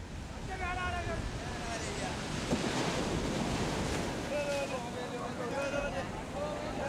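Steady surf breaking on a beach where fishermen haul ropes through the waves, a continuous rushing roar with wind, and voices calling faintly over it.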